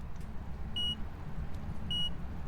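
Two short, high electronic beeps about a second apart come from equipment in the ghost-hunting video game Phasmophobia, sounding over a low rumbling background.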